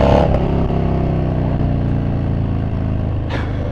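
A Harley-Davidson Low Rider S with an aftermarket exhaust idles and revs up close, a deep loud rumbling throb with a sharp throttle blip at the start and another near the end.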